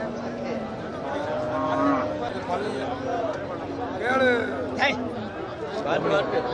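Cattle at a busy village cattle market moo in several drawn-out calls, some near and some farther off, over a steady murmur of crowd chatter and people talking nearby.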